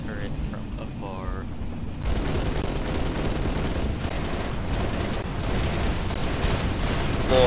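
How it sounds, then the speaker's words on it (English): A turret fires in Halo Reach in sustained, dense bursts of gunfire that dominate the scene, following a moment of speech at the start. "That guy's still shooting."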